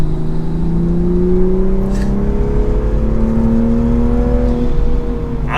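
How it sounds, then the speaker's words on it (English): Toyota Supra engine running in sport mode, a loud steady drone with rising and falling harmonic tones as the revs climb and ease, continuous throughout with no talking. "Obviously you can hear the car, it's not quiet,"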